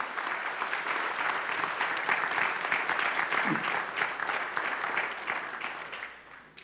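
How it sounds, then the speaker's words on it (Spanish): A church congregation gives sustained applause, many hands clapping in a thick, even roar that holds steady and then fades toward the end. "Démosles un fuerte aplauso."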